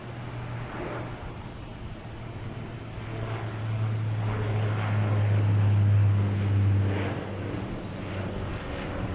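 A Porter Airlines plane departing Boston Logan Airport for Toronto, a broad steady engine roar heard from a distance that swells and peaks midway, then eases slightly.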